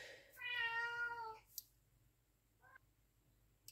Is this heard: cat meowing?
yes